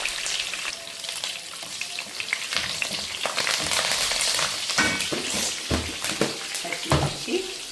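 Curry leaves and green chillies dropped into hot oil while cooking fish pulusu, giving a loud crackling sizzle with bursts of sputtering and stirring over a continuous hiss.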